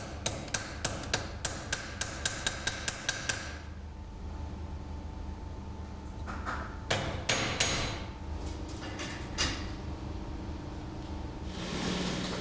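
A quick run of sharp, evenly spaced riveting-hammer strikes rings out as brass rivets are driven into a kitchen knife handle, then pauses, followed by a few more scattered blows and a brief grinding rasp near the end.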